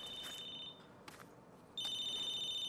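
Telephone ringing in the video game Battlefield Hardline, shrill electronic tone heard in two bursts separated by a short pause, with game ambience beneath and no talking.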